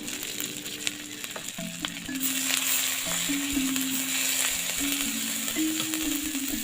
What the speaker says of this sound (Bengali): দিয়ে মশলাটি ভালো করে ভেজে নিতে হবে এর মধ্যে আমরা জিরে দিয়ে দিচ্ছি